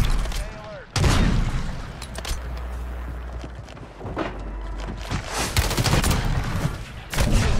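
Bursts of automatic gunfire and heavy firefights in the video game Warzone on Rebirth Island, loud and dense throughout with sharp bursts at the start and end, under excited voices.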